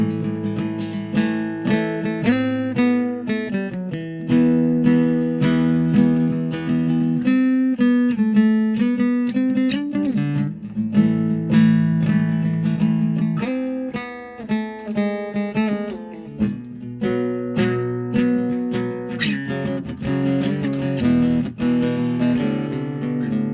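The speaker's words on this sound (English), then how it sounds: "we're gonna cut the compressor off, and we're gonna hear how it sounds without the compressor" Instrument playing a busy melodic line through a Donner Lax Comp compressor pedal switched off, with dense sustained notes heard continuously and close, without any talking.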